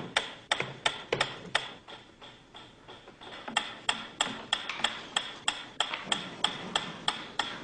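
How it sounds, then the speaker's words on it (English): A metronome ticks steadily and sharply, about two to three beats per second, each click crisp and close, with a brief irregular stretch before the regular ticking resumes and no speech. "A ticking metronome."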